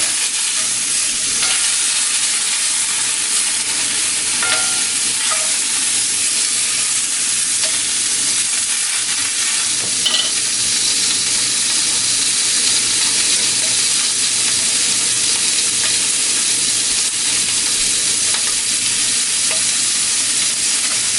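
Kielbasa frying in a pan, a loud, continuous bright sizzle and crackle holding steady throughout with scattered small pops and no talking.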